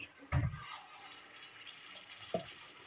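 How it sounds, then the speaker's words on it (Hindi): Half a cup of water poured into chicken korma in a pan, a short splashing pour followed by quiet sizzling and a small second splash, faint and close. "ये आधा कप पानी जो है वो मैंने इसमें ऐड कर दिया है।"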